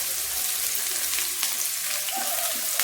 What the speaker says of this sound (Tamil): எண்ணெய் காஞ்சிருச்சு, வெங்காயம் போட்டுடலாம்.